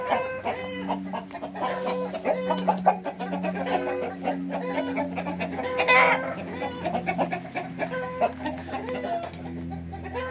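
A sengaruppu-breed fighting rooster clucks repeatedly at close range in a rhythmic stream of short calls, with a brief louder squawk midway and no talking.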